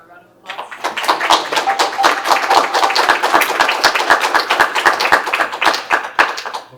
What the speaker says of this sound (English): Maybe we can give him a round of applause.